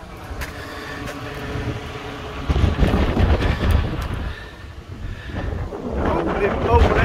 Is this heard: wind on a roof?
yes